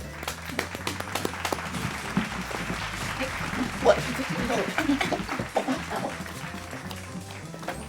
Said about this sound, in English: Let's give a round of applause to our 2 fake Moseses